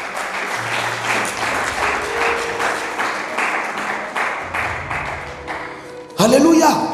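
Church congregation at a French-language sermon applauding in a steady, dense burst of clapping under a speaking voice, ending in a louder shout.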